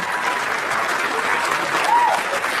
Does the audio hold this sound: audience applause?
yes